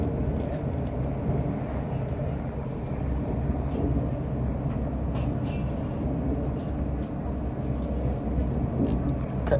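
LNER passenger train running along the coast between Leuchars and Aberdeen, heard from inside the carriage: a steady, loud rumble of wheels and motion noise with no breaks, occasional faint clicks above it.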